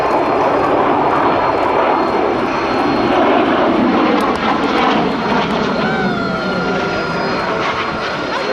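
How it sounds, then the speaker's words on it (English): B-2 Spirit stealth bomber passing over an airshow crowd, a loud, broad engine roar that sweeps through and slowly fades, with an announcer's voice faintly beneath. "B-2 Spirit."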